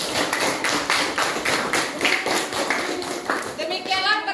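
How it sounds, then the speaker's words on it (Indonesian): A school class clapping their hands together, a lively burst of quick, overlapping claps from many children, fairly close and loud, with voices and chatter mixed in. "Tepuk tangan untuk mereka."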